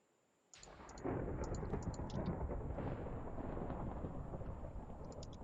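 Heavy rolling thunder in a Minecraft thunderstorm starts suddenly after a brief quiet, then rumbles on loud and sustained, with a steady wash of rain-like noise throughout.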